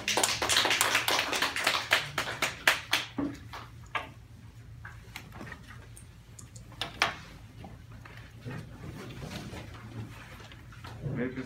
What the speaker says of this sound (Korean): 아기 예수 탄생을 기뻐하며 하는 경건의 박수 올려드리겠습니다.